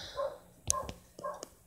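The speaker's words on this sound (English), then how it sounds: "I gotta get those dogs in. They're driving me crazy out there barking." Dogs bark outside, a few sharp yips and barks spaced apart, distant and fairly faint, with no one talking over them.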